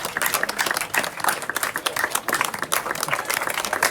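Applause from children and adults standing at a school classroom handover ceremony, dense steady clapping through the whole stretch, loud and close with some voices mixed in.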